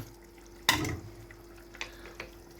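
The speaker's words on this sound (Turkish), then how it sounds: "Biraz şöyle karıştıralım" Spoon stirring a pot of okra and chickpea stew with meat and mint: one brief wet scrape and slosh, then two softer clinks and stirs, quiet and close over a faint steady hum.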